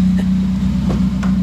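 A 2017 Subaru with a Grimmspeed catted J-pipe and Carven cat-back exhaust idles at a steady, even low drone around 900 RPM, with faint soft ticks over the continuous rumble.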